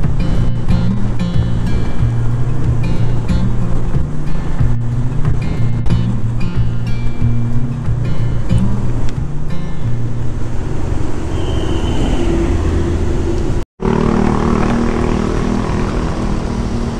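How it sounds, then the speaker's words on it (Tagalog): Loud, steady wind roars and buffets across the whole stretch during a motorcycle ride, a constant rushing noise with a brief dropout near the end. "Napakalakas ng hangin."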